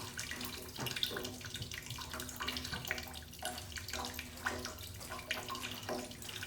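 Coolant water pours steadily out of the radiator of a 2006 Yamaha R6 motorcycle, a continuous splashing, trickling stream close by with no pauses.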